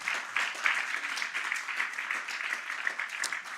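A church congregation claps loudly for the Lord during a Spanish-language sermon, a steady, moderately distant burst of many hands continuing throughout.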